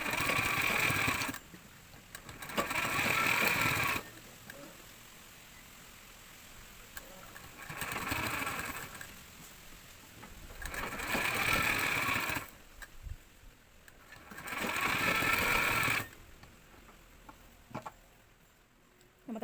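A sewing machine stitches hooks onto a blouse in four separate bursts of steady, rapid mechanical whirring, with quiet pauses between each run.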